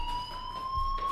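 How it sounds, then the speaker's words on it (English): A steady, shrill electronic fire alarm tone sounds continuously inside a building in the video game Life is Strange, moderately loud with no talking. "Hey, do you hear that fire alarm?"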